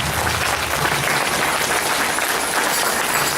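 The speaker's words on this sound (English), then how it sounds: "Please give our veterans a round of applause as they post the colors." At the Little Shell Tribe pow wow in Great Falls, a crowd gives thick, continuous applause as veterans post the colors, loud and unbroken from start to finish.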